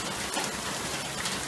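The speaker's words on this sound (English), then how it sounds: "it's just pouring down rain." Heavy rain pours steadily, a dense, continuous hiss of drops drumming on surfaces with no break, close and loud throughout.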